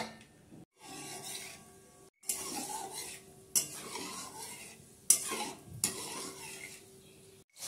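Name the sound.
cashew nuts frying in oil and ghee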